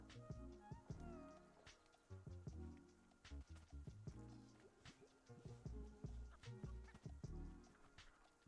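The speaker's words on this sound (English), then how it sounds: "There's kind of a cat." A cat meows repeatedly and loudly up close, a string of drawn-out calls and short yowls with brief pauses and a few knocks between them.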